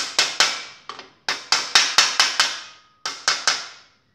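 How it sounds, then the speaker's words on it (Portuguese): A hammer tapping a bicycle bottom bracket cup into the frame shell, about a dozen crisp metallic taps, close and loud, in irregular groups with short pauses, each ringing briefly. "Batidinha sempre de preferência no X, pessoal, para ela encaixar a parede."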